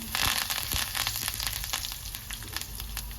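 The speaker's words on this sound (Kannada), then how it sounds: "ಸಾಸಿವೆ ಸಿಡ್ತಾ ಇದೆ." Mustard seeds, turmeric and curry leaves sizzle and crackle in hot oil in a pan, a steady close frying hiss with scattered sharp pops, no talking.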